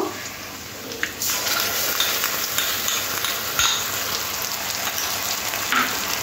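Onions and masala frying in a pan while being stirred, a dense continuous sizzle with occasional scraping taps of a spoon, close and fairly loud, no talking.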